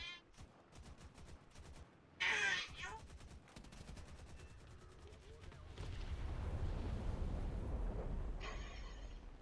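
Explosions and gunfire in a tank combat video game, with sharp bursts and a louder rumbling blast building toward the end, alongside intermittent talk.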